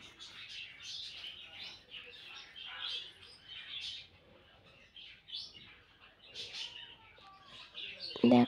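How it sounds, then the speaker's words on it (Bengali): Pigeons and cockatiels calling in a home aviary, with continual faint chirps and coos at a moderate distance, ending in a brief louder knock. "এটা কবুতর। আর এর সাইডে রয়েছে ককাটেলও রয়েছে"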